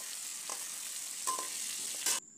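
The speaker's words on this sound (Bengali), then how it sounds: "চুলায় পরিমাণ মতো তেল দিয়ে মাছগুলোকে আমি ভেজে নিচ্ছি" Fish rubbed with salt and turmeric frying in oil on a stove, a soft steady sizzle with a few brief clatters of a utensil, quiet and close, cutting off abruptly at the end.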